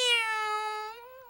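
A cat gives one long, clear meow that slowly fades, close and alone in a quiet room.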